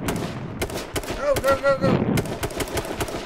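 Rapid gunshots in H1Z1 ring out in a steady string of close, punchy bangs while players shout excitedly over them.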